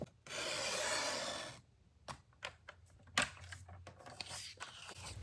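A paper trimmer blade slides through cardstock in one long, close rasping stroke. Several light clicks and taps follow as the trimmer is handled.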